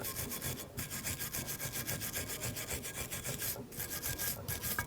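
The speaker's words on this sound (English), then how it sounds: "now we're going to take a wire brush and clean the surface here" Wire brush scrubbing road rust off a front brake bracket on a 2007-2017 Jeep Patriot 2.4L, rapid rhythmic back-and-forth rasping strokes, close and steady with brief pauses.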